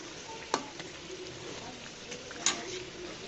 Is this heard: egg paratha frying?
yes